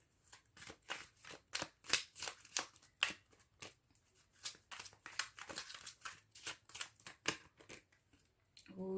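Tarot cards are shuffled close up in a quiet room, producing rapid irregular riffling and slapping bursts that come in uneven clusters.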